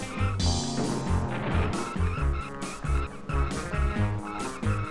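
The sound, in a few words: car collision in Cruis'n USA racing video game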